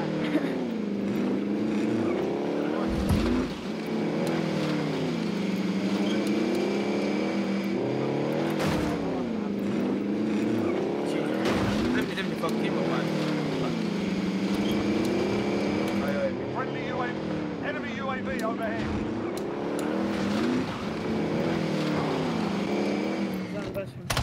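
A car engine drones and revs continuously while driving in the video game Warzone, rising and falling in repeated surges with gear-like pitch sweeps, loud and close, with brief sharp bangs mixed in.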